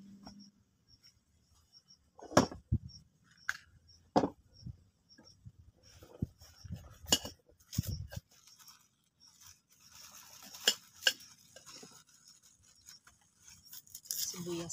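Knife chopping onions on a board, outdoors in a mountain setting while preparing misua noodles with sardines; a few sharp, irregular cuts and scrapes come close and fairly loud, with brief talk in between.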